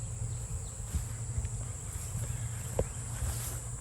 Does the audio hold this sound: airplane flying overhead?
no